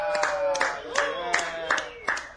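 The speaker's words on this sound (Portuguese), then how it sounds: "palmas para o pai da Bianca que pagou a conta" Hands clap in a steady rhythm for Bianca's father, with about six sharp, evenly spaced claps close by and voices mixed in.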